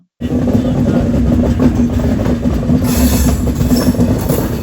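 The 17209 Sheshadri Express rolls through KR Puram railway station, a loud close continuous rumble of wheels and carriages that starts abruptly and holds steady.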